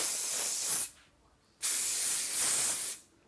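Schwarzkopf hairspray misted onto hair set in heated rollers: two loud, close aerosol bursts, each a steady hiss lasting about a second, with a short silent gap between them.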